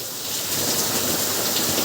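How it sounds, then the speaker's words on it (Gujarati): Heavy rain pours down steadily in Vallabhipur in a dense, continuous hiss, close and loud, with no voices. "વરસાદ બહુ સારો પડે છે"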